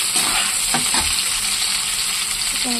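Onion and garlic frying in a pan give a loud, steady, close sizzle with a few stirring scrapes near the start.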